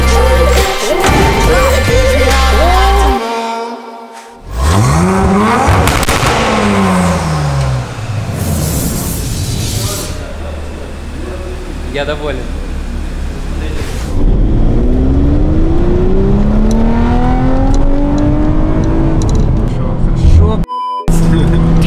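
A car fitted with a tuned stainless steel exhaust revs repeatedly, its engine note rising and falling in several loud, close sweeps with brief gaps between them, while someone speaks briefly.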